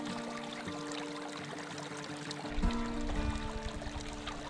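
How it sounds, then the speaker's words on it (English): A small, calm stream on Isle Royale, near the Island Mine camp area, runs with a soft, steady trickle and gentle pouring. It is heard up close and alone, with a slightly fuller gurgle toward the end. "A small, tranquil stream not far from the Island Mine camp area was the perfect place to resupply water"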